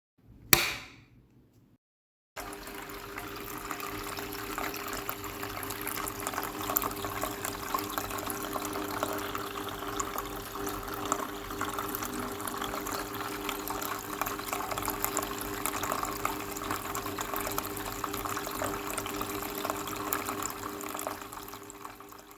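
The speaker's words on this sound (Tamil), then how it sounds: "ஸோ தண்ணி ஊத்தி செக் பண்ணி பார்த்துரலாம் எப்படி ஒர்க் ஆகுதுன்ட்டு." Water is poured into a homemade fountain, a continuous splashing, trickling flow that starts abruptly after a brief knock and runs steadily and fairly loud, with a low constant hum beneath it.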